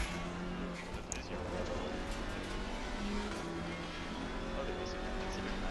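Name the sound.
race car overtaking in Assetto Corsa Competizione video game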